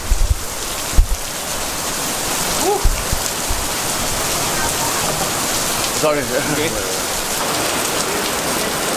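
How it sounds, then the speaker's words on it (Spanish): Heavy rain pours down in Kuala Lumpur, a loud, steady hiss of drops on surfaces that fills the whole stretch, with a few brief thumps and a short spoken word partway through. "Why Kuala Lumpur is so rainy today?"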